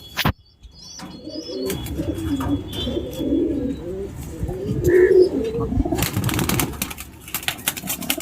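Low, rolling coos of Punjabi pigeons repeat steadily throughout, with a few brief flutters and chirps mixed in, fairly close and moderately loud.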